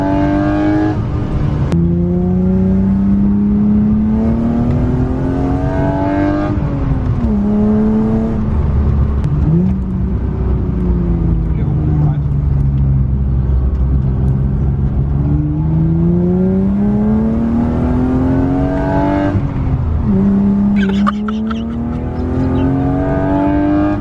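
A BMW E36 cruising along a country road, its engine droning steadily and loud throughout, with the pitch rising and falling through gear changes and a brief dip partway.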